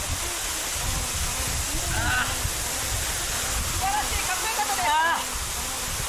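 A waterfall pours steadily with a dense, continuous roar under a voice and occasional faint higher calls, close and loud throughout, recorded at a waterfall during a shampoo promotion.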